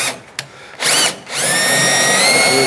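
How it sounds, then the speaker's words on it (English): A step drill bores through the sheet-metal door of an old truck, starting with short bursts of whining spin, then settling into a loud, steady high-pitched grind that holds to the end. "I'm going to use one of my favorite tools, a step drill."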